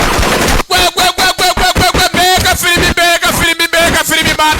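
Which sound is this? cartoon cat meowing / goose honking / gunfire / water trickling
gunfire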